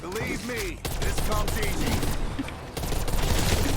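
Rapid gunfire shooting zombies in the video game Call of Duty: Black Ops Cold War, dense bursts of shots running almost continuously over game sounds, with a voice talking in places.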